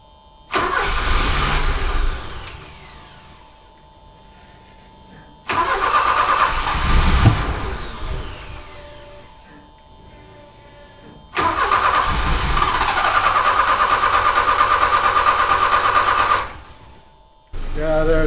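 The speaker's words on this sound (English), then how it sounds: "I'll turn the camera on up here and start the car and see what happens." A 1979 Porsche 924 engine cranks and fires three times, each start settling into a steady mid-pitched idle for a few seconds before cutting out, loud and close with brief quiet gaps between runs.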